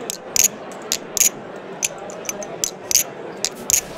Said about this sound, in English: you'll hear the bearings have a little bit more of a high-pitched ping and a bit of a rattle to it, whereas the bushings are really clean sounding